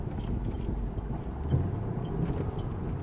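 A parked car's engine left running, a steady low idling rumble close by with a constant hum and faint background noise, no talking.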